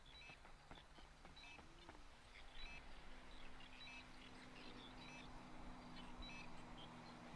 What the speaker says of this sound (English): I just hear the beeping sound, but where it's coming from?